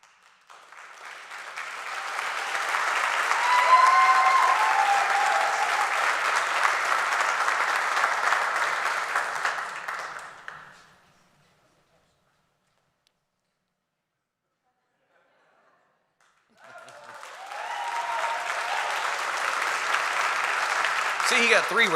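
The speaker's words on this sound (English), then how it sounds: "See, he got 3 rounds of applause." A commencement audience at a college graduation ceremony claps for a graduate in two long bursts of dense applause, the first swelling and holding for about ten seconds before stopping, then a brief silence and a second round starting up again.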